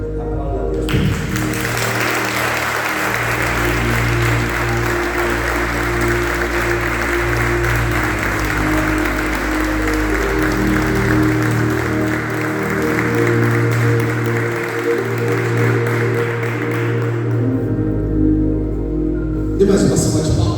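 A large audience at a live event applauds loudly and steadily, with sustained clapping and low musical tones underneath, then the clapping fades out near the end.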